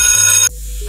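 A telephone bell rings loudly for about half a second, then cuts off abruptly, leaving a low hum behind.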